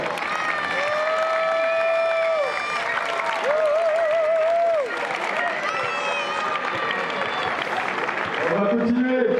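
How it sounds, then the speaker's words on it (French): A crowd at the ASM Belfort football club team presentation applauds and cheers steadily, while a loud amplified voice speaks over the clapping through a PA system. "Monsieur Nasser, on peut l'applaudir beaucoup plus fort, s'il vous plaît."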